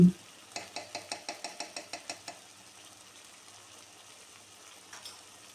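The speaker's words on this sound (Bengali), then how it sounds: "ঘি দেওয়ার পর চিংড়ির সাথে ভালোভাবে নাড়াচাড়া করে ঘিটা মিশিয়ে নেব" A spoon stirs prawns with a spoonful of ghee through thick, reduced coconut milk curry in chingri malaikari, making a quick run of about ten rhythmic scraping clacks, then a quieter gentle bubbling simmer.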